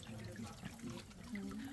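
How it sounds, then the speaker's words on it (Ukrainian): Water flows and trickles along a Madeira levada irrigation channel on a mountain walk, a soft continuous gurgling close by and fairly faint. "слухаємо шурхіт води"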